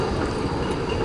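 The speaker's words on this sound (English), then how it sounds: "Here goes that tram." An old Melbourne tram passes close by with a steady, loud rolling rumble of wheels on rails, with no voices over it.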